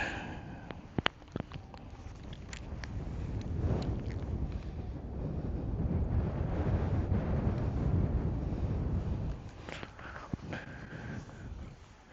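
Steady wind rushes and buffets the microphone, swelling to a stronger gust in the middle before easing off, with occasional faint clicks and knocks.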